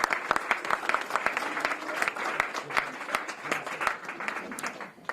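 An audience at a government press conference on ICE raids applauding, a burst of dense clapping that holds steady and then tapers off toward the end.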